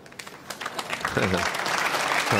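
Snooker audience applauding at the 2018 Champion of Champions, clapping that swells from scattered claps into steady, fuller applause, with a commentator's voice running underneath.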